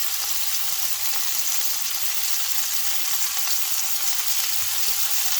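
Sesame chicken pieces frying in hot oil, a steady, even hiss and crackle of sizzling that runs without a break, close and moderately loud, with no talking.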